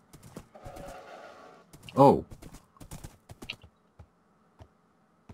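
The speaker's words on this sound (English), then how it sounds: "I heard another horse." Horse sounds in a video game: scattered hoof clops and a short whinny-like burst in the middle, faint and sparse over a quiet buzzing background, with a brief spoken exclamation.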